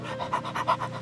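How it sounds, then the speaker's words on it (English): A dog pants rapidly and close by, with about eight quick rhythmic breaths in just over a second, soft and alone. "I swear I heard a dog."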